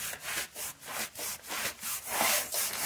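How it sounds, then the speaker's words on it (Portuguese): Rhythmic back-and-forth scrubbing of a house's front floor with a broom, detergent and scouring powder, about ten close, loud rasping strokes with no talking. "E daí agora eu vou dar uma esfregada aqui."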